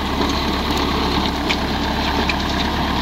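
Diesel engine of an El Nasr 65 tractor idling steadily nearby, a constant low rumble with vibration and no breaks over three seconds.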